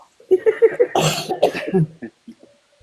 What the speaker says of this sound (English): We're all coughing.